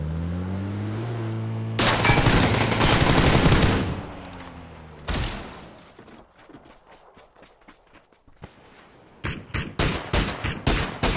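PUBG gunfire rattles out in loud bursts of rapid shots, then a break, then a closing string of sharp, evenly spaced single shots, heard close with vehicle and movement sounds between them.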